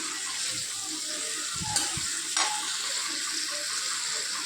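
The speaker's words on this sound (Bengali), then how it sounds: "তারপর পেঁয়াজ কুচি দিয়ে দিয়েছি। লাল লাল করে ভাজা হবে পেঁয়াজটা।" Chopped onion frying with dried red chilli, bay leaf and cumin in a pan for mushroom curry, giving a steady hiss with a few brief stirring scrapes near the middle.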